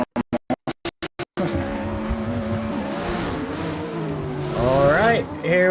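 Drift cars in the video game Assetto Corsa at a drift competition, heard after a few sharp clicks: a sustained engine drone with rising revs, then a wavering tire squeal near the end, under continuous commentary.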